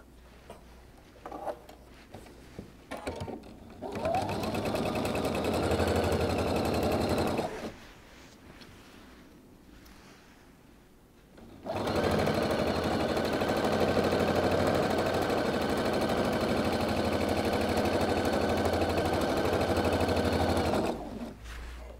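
A sewing machine stitching pieced quilt fabric with pressed-down seams, running in two long steady whirring bursts separated by a quiet pause, with light handling noise before, close and moderately loud, no talk.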